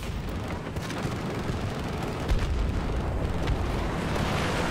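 A grenade goes off during a Battlefield 2042 match, a heavy boom rising out of dense, continuous battle noise of blasts and gunfire, loud and close.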